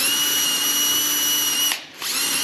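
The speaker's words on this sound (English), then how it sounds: "we can get your drill with a wire brush." Power drill spinning a wire brush to scour a car brake caliper carrier clamped in a vise, a steady loud whine that cuts out briefly before spinning back up.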